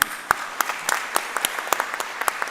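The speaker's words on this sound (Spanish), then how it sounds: "vamos a dar el aplauso al maestro" Applause at a conflict-prevention policy panel: a smaller audience claps in a thin wash, with a few louder individual claps standing out at a regular beat for about two and a half seconds.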